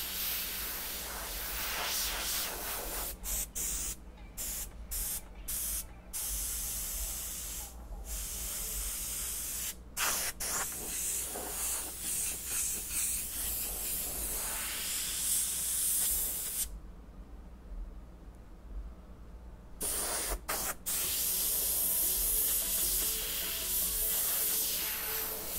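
An airbrush sprays paint in a steady hiss while misting background color onto a custom-painted Jeep dashboard, running almost continuously with a few brief pauses and one longer gap before it resumes.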